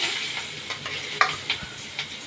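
Fish coated in oil and turmeric frying in a pan gives a steady close sizzle with a few sharp spits and pops over about two seconds, with no voices.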